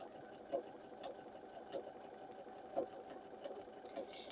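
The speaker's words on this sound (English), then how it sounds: "And then we can sew that down, keeping that point right on that center line all the way through." A home sewing machine stitching a seam through a quilt's half-square triangle block runs with a steady mechanical hum, with brief louder bursts from the motor roughly every second. The sewing is close and alone, with no talk.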